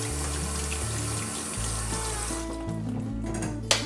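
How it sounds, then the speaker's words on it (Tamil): Cool tap water runs steadily over cooked tapioca pearls as they are rinsed in a kitchen sink for brown sugar bubble tea, with a continuous splashing flow and a brief louder splash near the end. "ஊற்றிட்டு இதை நல்லா கூல் தண்ணியில் கழுவிக்கோங்க."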